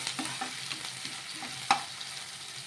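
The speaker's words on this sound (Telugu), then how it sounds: "ఇలా ఆనియన్ కొంచెం ఫ్రై అయిన తర్వాత ఇందులోకి కొంచెం అల్లం వెల్లుల్లి పేస్ట్ కూడా వేసుకొని ఒకసారి బాగా కలిపేసుకుందాము" Onions with ginger-garlic paste frying in hot oil in a pan as part of a flat bean and egg dish, a steady soft sizzle with light stirring scrapes and one sharp utensil clink near the end, no voices.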